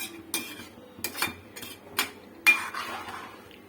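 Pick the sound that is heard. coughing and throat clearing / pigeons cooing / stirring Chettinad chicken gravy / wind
stirring Chettinad chicken gravy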